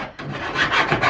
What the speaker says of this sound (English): And we're filing, or Frank is filing.